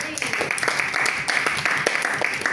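Clapping from a small Toastmasters club audience in Brunei, a brisk, uneven patter of hands heard close by with faint voices mixed underneath.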